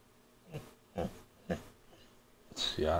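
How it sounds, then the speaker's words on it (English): A dog whines in short, repeated breathy whimpers, about four spaced bursts at moderate distance, followed by a louder murmur of human voice at the end. "Yeah, I hear my dog whining."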